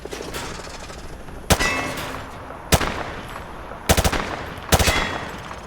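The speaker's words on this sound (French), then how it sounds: "Prenez cette arme sur la table et tirez sur les cibles derrière vous." Gunfire from a weapon aimed at shooting-range targets in the 2009 video game Modern Warfare 2: several sharp, loud shots spaced apart, including a quick triple burst, over a steady ambient background.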